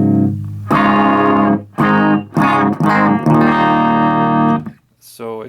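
An electric guitar runs through a Pearl OD-05 clone overdrive pedal in bypass, giving a clean tone: several sustained notes and chords ring close and bright, with short gaps between phrases.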